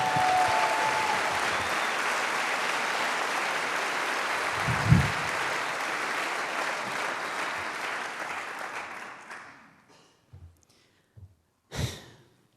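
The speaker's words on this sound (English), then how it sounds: "Please give him a round of applause." An audience applauds a musician at an evening of music and discussion, a sustained wash of clapping that holds steady, then thins and fades out over several seconds, leaving a few scattered claps.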